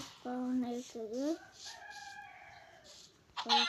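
Minecraft chicken sounds, a few short synthetic clucks and a warbling rising call in quick succession, fairly close with faint background.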